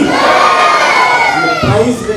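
A large crowd at a Krishna Janmashtami celebration roars "Bharat Mata Ki Jai" in one loud, sustained collective shout, with children's voices prominent and the cheer swelling briefly before it fades.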